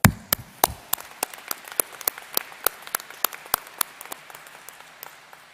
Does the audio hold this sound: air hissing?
no